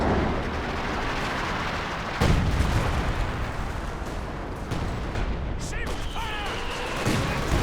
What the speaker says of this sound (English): Here comes the Katyusha now